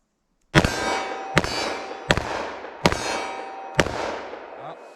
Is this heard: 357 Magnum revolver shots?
yes